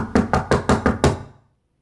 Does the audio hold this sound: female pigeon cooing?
no